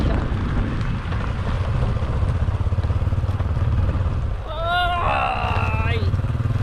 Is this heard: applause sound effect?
no